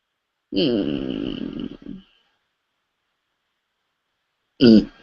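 A person yawns in a long, drawn-out, voiced breath that fades off, then after a pause gives a short second groaning exhale, close and clear in an otherwise silent room.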